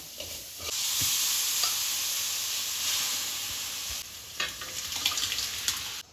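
Cooked dal tipped into a sizzling tempering of spices and chilli powder, a loud hissing fry that settles as a spoon stirs and scrapes the pan in uneven strokes.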